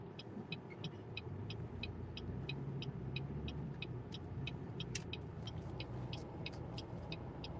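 A car drives along during a first-day driving lesson, its engine and road noise a steady low rumble inside the cabin. A turn signal ticks evenly and quickly throughout.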